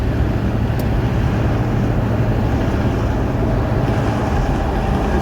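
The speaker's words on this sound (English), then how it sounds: "There's a bit of wind noise because my window's down." Wind rushes through the open window of a 1981 Cadillac Seville while it drives along, a constant loud broadband roar that mixes with road noise throughout.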